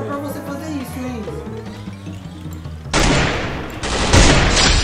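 Rapid bursts of video game gunfire erupt suddenly after talking and game music, loud and dense automatic fire in two waves with people speaking around it.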